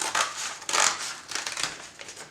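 Scissors cutting through a folded paper bag to make a pop-up book, a few close, crisp snips and crinkling crunches in quick irregular bursts.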